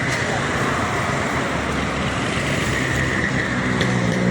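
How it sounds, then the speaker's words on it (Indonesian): An intercity ALS 327 bus arrives at a busy Palembang bus station after a trip from Bandung. A steady, loud engine and road rumble fills the whole stretch with a constant hiss over it. "Ini ada bus ARS 327 baru masuk ya."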